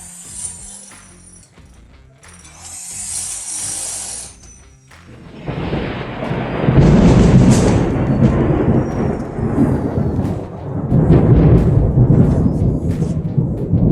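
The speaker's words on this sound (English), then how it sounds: "That's the kind of thunder we get down here." Loud thunder during a storm, rumbling and cracking up close for several seconds after a quieter stretch of rain and hiss, with no one talking.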